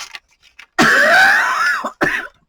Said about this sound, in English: my cough has decided that it's going to continue to come back